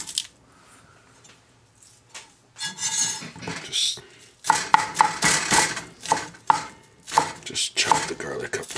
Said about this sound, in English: just chop the garlic up real coarse